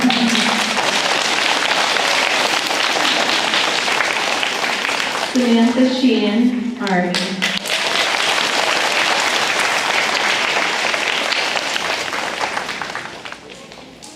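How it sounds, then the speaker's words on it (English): Audience clapping for veterans at a Griswold Veterans Day ceremony, continuous loud applause from a crowd lasting over ten seconds, with a voice announcing a name and service branch over it midway before the clapping tapers near the end. "You can clap."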